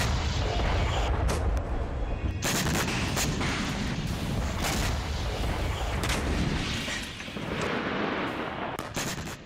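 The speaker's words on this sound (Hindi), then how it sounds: "ऑपरेशन पोर्ट के तहत अमेरिका ने यमन में हूती के पोर्ट पर जबरदस्त विस्फोट किया है" Explosions from US airstrikes on Houthi ports in Yemen: a dense barrage of sharp, booming blasts in rapid succession, loud and rolling together into sustained rumbling, with brief gaps and a slight fade at the end.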